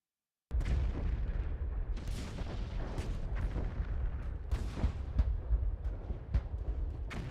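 Artillery guns firing in the World War I game The Great War: Western Front, a dense barrage of booming blasts and sharp cracks erupting after a brief silence and continuing in irregular, overlapping bursts.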